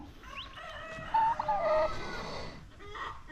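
Chickens on a farm, with a newly hatched chick nearby, give short clucks and a brief crowing call at moderate distance over quiet outdoor background.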